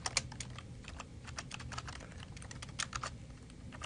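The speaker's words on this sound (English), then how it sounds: "And type in a file name." Soft, quick clicks of a computer keyboard as a file name is typed, an uneven patter of keystrokes at low volume with no voices.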